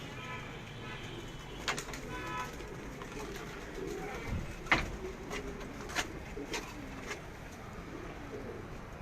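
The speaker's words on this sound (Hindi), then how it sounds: "ये अबाबील ब्रीड के कबूतर" Soft Ababeel breed pigeon cooing in a quiet outdoor setting at dusk, low murmuring calls with occasional faint clicks and flutters, somewhat distant.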